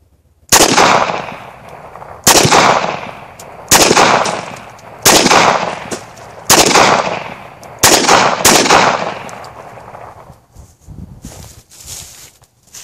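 A Beretta model 1934 pistol fires at half-gallon jugs in about seven loud, evenly spaced reports, each a sharp crack with a lingering outdoor echo, then fainter clatter trailing off.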